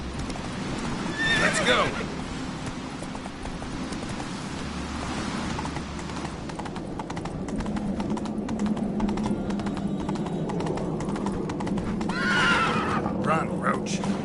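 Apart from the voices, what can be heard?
horse neighing and galloping in The Witcher 3 video game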